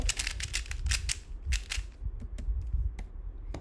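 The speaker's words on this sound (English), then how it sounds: "You have to click the arrow keys to stop it." Sharp plastic clicks of computer keyboard keys, arrow keys among them, tapped in quick irregular bursts and then sparser single presses, close and fairly loud with no speech.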